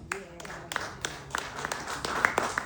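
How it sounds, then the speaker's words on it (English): Scattered claps ring out from an audience at a film success celebration, a handful of sharp strikes spaced irregularly over low chatter and a voice in the room. "Let's have a round of applause"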